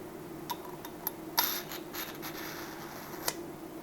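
The cap of an ANTOU S cap-style ballpoint pen clicks in a few small, sharp snaps spread over a few seconds, quiet and close against a faint hiss, with no voices.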